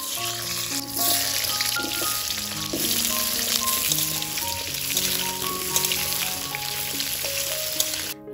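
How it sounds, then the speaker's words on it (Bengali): Potato pieces frying in a kadai (wok) over a home stove: a steady, dense sizzle runs throughout, overlaid with sustained melodic tones resembling background music, with no talking. "এবার কড়াইতে আলুগুলোকে ফার্স্টে ভেজে নেবে।"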